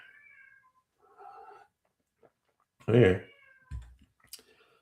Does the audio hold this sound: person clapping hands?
no